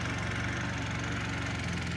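A lawn mower engine runs steadily and close by in a garden, a continuous droning idle with a low rhythmic chug throughout, no voices over it.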